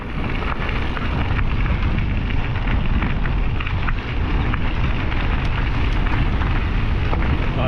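Strong headwind buffets the microphone during a ride on an electric mountain bike along a rail-trail greenway, a loud, continuous rumbling roar that fills the whole stretch with no voices.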